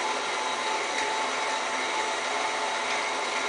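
An electric stand mixer whirs steadily at close range, a dense continuous motor hum with no breaks and no talking.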